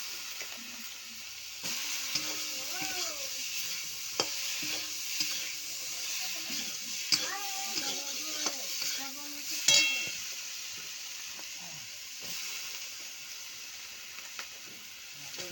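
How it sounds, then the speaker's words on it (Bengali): Chopped mixed vegetables with ground spice paste sizzling in a pan, a continuous close hiss with stirring scrapes and clinks, while a voice talks quietly at times over it. "বাটা নিয়ে কাটা সবজিগুলো এর মধ্যে দিয়ে দিলাম"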